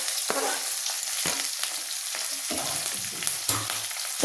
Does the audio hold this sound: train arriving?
no